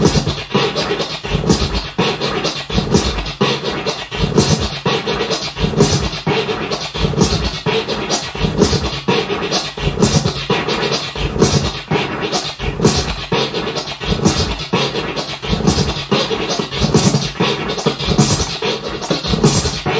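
A DJ works a turntable with rapid triplet delete scratches, a steady run of choppy, rhythmic record scrapes repeating closely for about twenty seconds with no talking.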